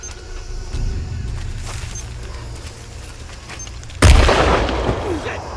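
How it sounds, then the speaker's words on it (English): In the Shadow of the Tomb Raider video game, a loud explosion erupts suddenly partway through, a sharp booming blast that rumbles and slowly decays over low steady game ambience. "make this explosion right here."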